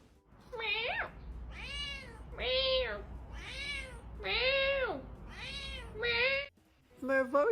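Several cats meow one after another in a loose series of drawn-out, rising and falling calls, close and fairly loud, with one last short meow after a brief pause.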